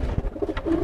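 Domestic pigeon giving a short, soft, close coo, a brief burst of low throaty notes heard alone.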